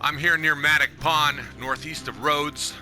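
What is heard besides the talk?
No everyday noise stands out behind the speech.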